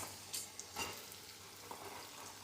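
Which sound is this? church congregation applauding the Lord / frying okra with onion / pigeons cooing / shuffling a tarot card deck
frying okra with onion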